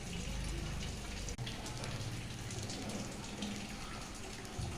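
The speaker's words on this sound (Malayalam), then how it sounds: "ഇനി 1 സ്പൂൺ നെയ്യ് ഒഴിച്ചു കൊടുക്കുക." Spoonful of ghee poured into a hot pan for a Nendran banana ghee roast, sizzling as a steady, close, loud hiss that runs unbroken through the whole moment.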